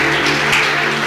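A church congregation at a Sunday service applauds together, a dense, steady wash of clapping that fills the whole moment at close range without letting up.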